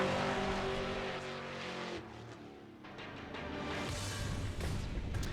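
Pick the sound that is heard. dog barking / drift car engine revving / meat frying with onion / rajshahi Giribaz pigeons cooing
drift car engine revving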